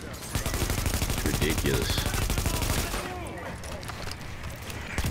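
A heavy gun in Tom Clancy's The Division fires a rapid, sustained automatic burst for about three seconds, loud and close, with someone talking over the shooting.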